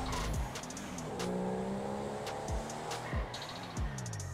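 A car in the GTA 5 video game driven on a short test drive down the block, engine droning and revving with repeated rising shifts and occasional tire squeal, steady and close with no talking.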